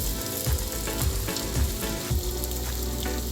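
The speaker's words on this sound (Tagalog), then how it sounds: "Guys, mainit na yung mantika. Iluluto na natin ito." Chicken fillet frying in very hot cooking oil, heard up close as a loud, continuous sizzle with bubbling crackles and a few soft pulses as the pieces settle.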